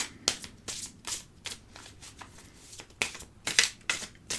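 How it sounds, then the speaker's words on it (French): A deck of tarot cards is riffled and shuffled by hand, making a string of crisp, close flapping bursts about every half second, some sharper and louder than others, with no voices. "on va mélanger"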